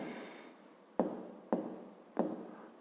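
A pen moves across paper while a short explanation for a fifth-grade math word problem is jotted down: a soft scratchy run, then three sharp separate strokes, close and quiet, with no talking.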